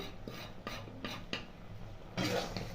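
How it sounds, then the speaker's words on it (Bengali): A utensil scrapes and stirs through thick jujube chutney with fried spices in a pan, several rhythmic rasping strokes followed by a louder, longer scrape near the end. "ভালো করে নাড়িয়ে নিলাম।"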